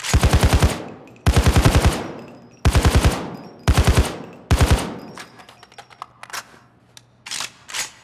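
Automatic Eagle Heavy Rifle fire in a video game: five loud, close bursts of rapid shots with short pauses between them, followed by softer clinks, clatter and a couple of fainter sounds.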